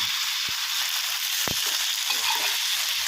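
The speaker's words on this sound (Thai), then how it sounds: "อ่าค่อยๆผัดคลุกเคล้าไปนะครับ" Cabbage and canned fish stir-frying in a hot pan, a loud continuous hiss of sizzling broken by a couple of sharp knocks from the spatula, with no talking.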